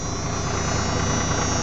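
A 1993 Cummins diesel engine idles a little low after a cold start, giving a steady, even rumble with no talk over it.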